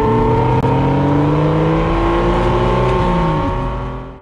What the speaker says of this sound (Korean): 이런 식으로 생생한 엔진 소리를 들을 수 있습니다